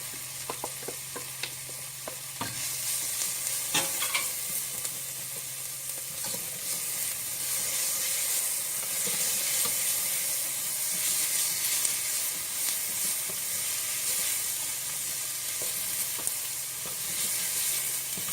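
Onions sizzle and fry steadily in a hot pan, joined by ginger and garlic, giving a continuous close hiss with occasional stirring clicks and scrapes and no talking.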